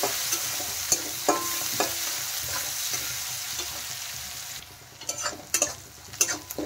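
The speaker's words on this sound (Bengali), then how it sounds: "পেঁয়াজগুলো একটু ব্রাউন করে ভেজে নেব।" Chopped onions frying in a pan, following whole cumin seeds, for a restaurant-style palak paneer, giving a steady close sizzle with periodic sharp clicks and scrapes of stirring, louder bursts toward the end.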